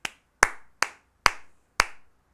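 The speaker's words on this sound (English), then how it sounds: "just clap your hands in front of your face" Five sharp hand claps in a quiet room, evenly spaced about half a second apart, each loud and close with a short decaying ring, no talking.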